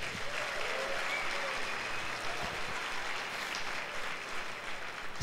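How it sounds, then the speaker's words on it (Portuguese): A church congregation applauds during a Sunday worship service, a continuous wash of many hands clapping, soft and somewhat distant, holding steady throughout. "dá um aplauso a Ele."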